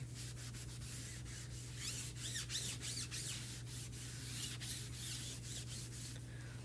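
A cloth rubs leftover paste off a chalkboard in steady back-and-forth strokes, a close, continuous scrubbing with faint squeaks and no talking.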